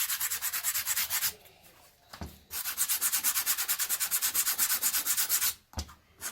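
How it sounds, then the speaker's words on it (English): Sandpaper rubbing hard and fast against the sides of a Birkenstock footbed during homemade slipper making, loud rhythmic back-and-forth strokes in two long bursts with a short pause between them. "try and sandpaper the sides where you'll be putting the gum"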